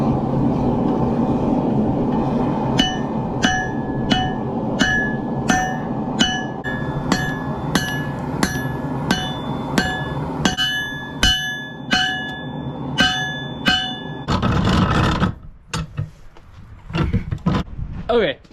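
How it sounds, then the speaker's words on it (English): Hammer forging the handle of a Damascus steel knife, a series of sharp ringing metal-on-metal strikes in an uneven rhythm over a constant roar of background noise, followed by a short burst of heavier clattering near the end. "Now it's time to start forging the handle of this knife."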